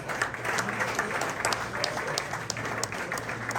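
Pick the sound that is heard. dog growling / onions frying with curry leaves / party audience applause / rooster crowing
party audience applause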